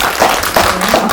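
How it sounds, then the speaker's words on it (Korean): Audience at a film screening talk in a CGV cinema clapping together, a loud, steady burst of applause running the whole time with no voices over it. "박수 한번 주세요"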